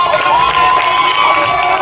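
Football crowd cheering for the Irish defense, a loud, steady roar of many voices sustained without a break.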